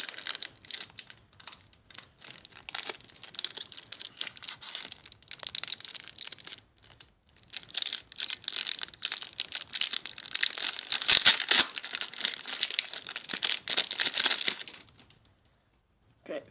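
Four Panini Adrenalyn XL Champions League Nordic Edition card packets are torn open and handled, giving a run of close crinkly foil rustling and tearing that stops near the end, with a voice speaking at times.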